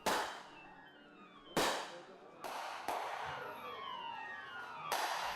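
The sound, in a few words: rifle shots fired at military event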